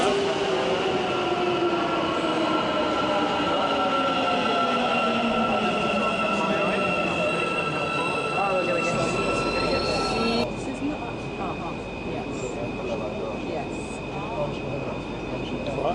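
An Istanbul Metro M2 subway train runs loud and close with a rumbling roll, squealing wheels and long rising whines. The tone shifts partway through, and a voice can be heard talking faintly under the noise.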